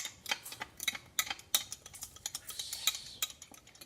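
A spoon stirs iced coffee in a cup, rapid light clinks and taps against the sides with ice rattling, quiet and close, with no voices.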